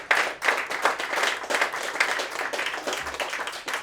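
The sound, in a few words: audience clapping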